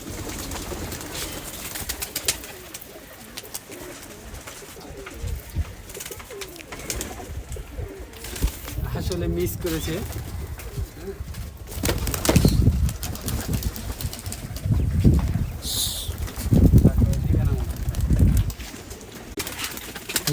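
Local Rajshahi Giribaz pigeons at a home loft coo softly while wings flap in sudden loud bursts close by, with a few brief spoken words over the birds.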